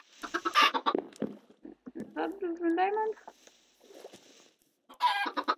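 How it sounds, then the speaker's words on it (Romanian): Game-style chicken clucks and squawks from a Minecraft-style Lucky Block Wars game come in short bursts, close and clear, while a person talks over them in Romanian. "Aceste găini, dacă le omori,"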